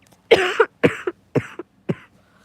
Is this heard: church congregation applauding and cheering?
no